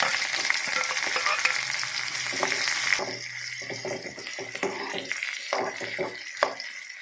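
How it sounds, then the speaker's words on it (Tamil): A busy, crackling sizzle of onions frying in a pan, with scraping and stirring clatter breaking in partway through. "இந்த வெங்காயம் நல்லா பொன்னிறமாக வர வதக்கிக்கலாம்"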